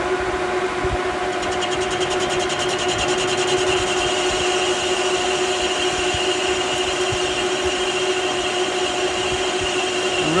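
A lathe turning at about 600 RPM parts off a one-inch steel rod under constant feed, giving a steady, loud grinding rasp with a persistent high whine that holds evenly throughout with no talk.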